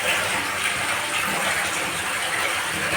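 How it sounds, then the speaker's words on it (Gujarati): Water gushes strongly from a borewell beside a farm well, a dense continuous rushing roar held at steady loudness throughout, near and unbroken, with no talking. "જોરદાર પાણી આવી ગયું હોય ભાઈ"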